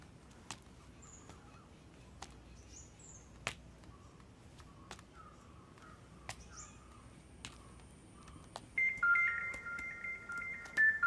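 A phone rings at home, its warbling electronic ringtone starting loudly near the end after a quiet room stretch with scattered clicks and faint background sounds.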